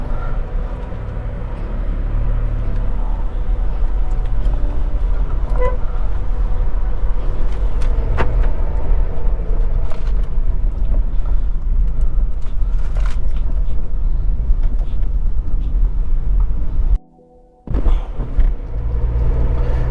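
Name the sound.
Volkswagen Polo 1.2L MPI car driving off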